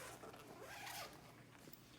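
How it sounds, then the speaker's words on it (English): The zipper on the side of a Saunders lumbar traction unit case is unzipped in one quick, faint rasp against steady background hiss. "There's zippers on the side where you unzip"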